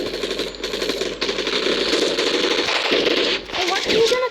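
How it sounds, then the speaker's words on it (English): Rapid bursts of video game gunfire fire almost nonstop during a gun fight arena match, loud and close, with a voice talking over the shots. "Zo'n sniper. Ik geef maar een no-scope."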